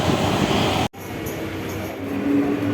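A train rumbling steadily nearby at Kanchrapara station after a brief cut, its low drone building slightly in loudness as it pulls away.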